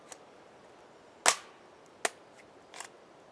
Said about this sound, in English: When you have a full magazine, Luke, sometimes it's hard to seat the mag, so you want to pull after you push it in